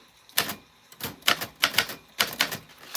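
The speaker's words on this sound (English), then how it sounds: "at least then you hear the typewriter" A typewriter being typed on, with irregular bursts of sharp key strikes in quick clusters and short pauses between, close and fairly loud, no voices.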